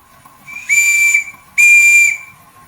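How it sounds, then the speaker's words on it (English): Two shrill blasts from a small steam whistle on a model steam engine, each about half a second long, sound close and loud against a quiet background. "That is one pathetic whistle."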